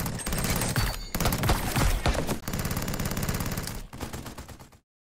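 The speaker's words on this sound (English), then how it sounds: "The DP-27 was the Soviet light machine gun of World War II." Soviet DP-27 light machine gun of World War II firing sustained rapid automatic bursts, loud and close with brief gaps between strings of shots, ending abruptly in silence.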